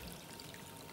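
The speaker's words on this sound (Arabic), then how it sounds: "هبتدي هنا احط المرقه، دي مرقه العكاوي بقى" Oxtail broth is poured into a pot of Egyptian molokhia soup with bird's-tongue pasta, a faint, steady liquid splash and trickle lasting about a second, close by with no talking.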